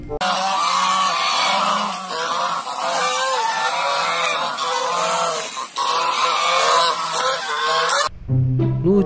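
A goose in the video game Jurassic World Evolution 2 honks repeatedly in loud, nasal, overlapping calls for several seconds, ending with a sudden cut to quieter game sound.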